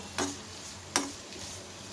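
Onions and tomatoes sautéing in a pan for chutney, a soft sizzle broken by two distinct utensil scrapes or taps about a second apart, quiet and close, no talk.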